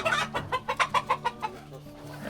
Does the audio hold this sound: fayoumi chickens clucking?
yes